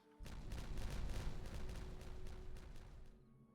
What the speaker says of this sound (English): Let's get these detonated.